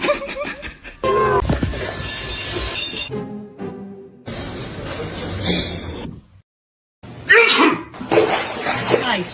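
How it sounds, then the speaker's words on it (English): A loud, close sneeze bursts out amid noisy, jumbled sounds and voices, with a brief silent gap before more commotion. "I sneezed."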